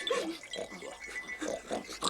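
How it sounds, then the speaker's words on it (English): Pigs grunting and oinking in a Soviet film, several close, busy snorts and grunts in quick succession filling the whole stretch. "She's driven home with pigs."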